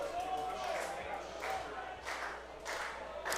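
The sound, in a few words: baseball crowd cheering behind the pitcher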